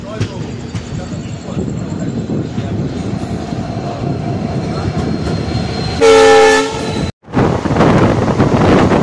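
Passenger special train from New Jalpaiguri to Haldibari passing close by, with steady loud rumble of wheels and carriages, a sharp horn toot near the middle, then a brief cutout before the rumble resumes.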